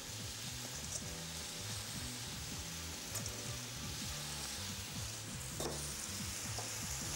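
Roughly cut cabbage frying in a pan, a steady sizzle with rhythmic scraping as it is stirred, close and continuous with no talk.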